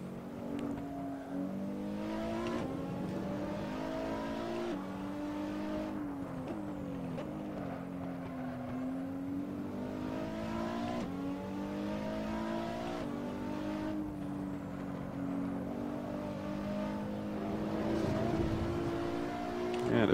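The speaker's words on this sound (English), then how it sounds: "ripping down the straightaway up past 230 kilometers an hour without even breaking a sweat" Racing car engine in Assetto Corsa screaming at high revs on a straight past 230 km/h, steady and loud, with rising harmonic tones as it accelerates through the gears and a brief gearshift dip.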